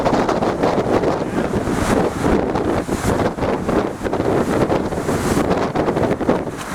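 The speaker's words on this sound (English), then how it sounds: "Very windy." Strong gusting wind buffets the microphone in stormy weather by the sea at high tide, a loud continuous roar with surf and waves churning beneath it and no voices.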